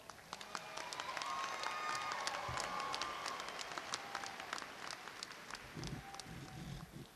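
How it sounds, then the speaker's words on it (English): Sustained applause from a crowd honoring graduates at Alabama A&M University's spring commencement ceremony, a dense wash of clapping that holds steady for several seconds, then thins into scattered claps near the end. "So let's give our graduates a round of applause."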